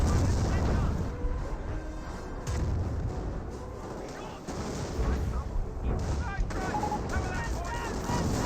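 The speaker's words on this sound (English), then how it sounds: "And we do got a Firestorm raining on in." Firestorm artillery barrage raining down in a Company of Heroes match, a continuous dense rumble of booms and crackling blasts running throughout, with a commentator talking over it.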